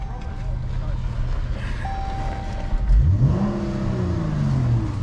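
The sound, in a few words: Chrysler 300 car engine revving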